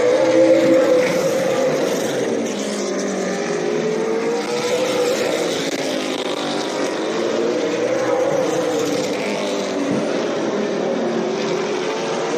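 Race cars circle the track during a 20-lap Consi race, a steady droning engine roar held near and loud throughout, with the pitch rising and falling slightly as the cars pass.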